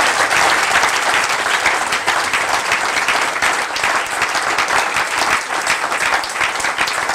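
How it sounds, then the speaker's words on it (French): A church congregation applauds loudly to acclaim the Lord, with dense, sustained clapping that fills the room evenly from start to finish and no voices over it. "Est-ce qu'on peut acclamer très fort le Seigneur?"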